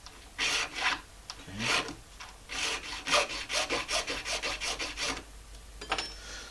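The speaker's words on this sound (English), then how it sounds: "these little files are extremely controllable" A small hand file rasps across a bone fish hook in short, rhythmic strokes. The strokes come close and clear, in irregular bursts that turn quicker and more even toward the end, and one brief word is spoken partway through.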